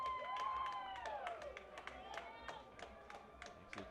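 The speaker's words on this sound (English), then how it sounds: "They'll start the clap again." Fans at a college baseball game between UNCW and Charleston clap together in a rhythmic, evenly spaced beat that carries from a distance, while a commentator talks over it.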